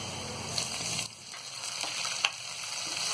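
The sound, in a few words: garlic greens frying in a pan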